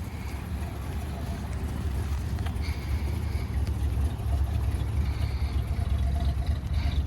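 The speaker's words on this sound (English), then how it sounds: "That old car sounds cool." A low, rumbling old Chevrolet Caprice Classic engine idles steadily throughout, with a deep throb underneath and some faint higher mechanical whine.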